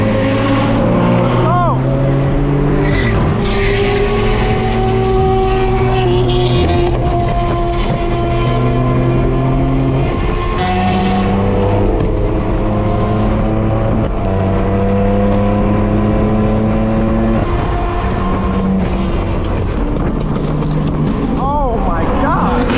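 A straight-piped BMW M4 F82 roars loudly as it accelerates hard through repeated gear changes, each upshift dropping the rising engine pitch, with constant cabin-side exhaust noise over road rush.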